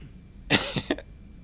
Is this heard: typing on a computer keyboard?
no